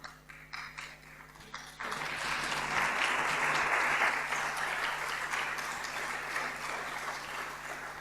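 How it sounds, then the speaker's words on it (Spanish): A packed hall of people bursts into sustained, dense applause after a few scattered claps, holding steady and full until the end at a gathering about accompanying the elderly. "Ese aplauso no es para mí, es para esos ángeles"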